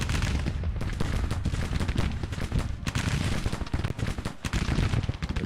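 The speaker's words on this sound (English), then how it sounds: "These guns are firing at someone." Dense, continuous artillery and gunfire roars throughout a Civil War battle at Baltimore in Grand Tactician: The Civil War, with loud overlapping booms and volleys that barely let up.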